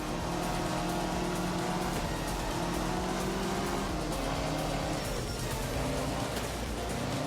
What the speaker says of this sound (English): You can hear the deep rumble of that V8.